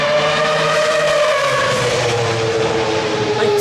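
Formula 1 race car at Baku, Azerbaijan: a loud, continuous engine whine with a descending pitch as the car brakes hard, mixed with tire noise and roar, close and dominant throughout.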